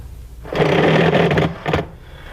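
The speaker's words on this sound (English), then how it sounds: "you're going to use the paddle bit to enlarge those, and we're going to do that now" A paddle bit drills out holes in the plastic inner panel of a Can-Am two-seat side-by-side door. One loud burst of drill whine runs about a second, then a short second burst follows.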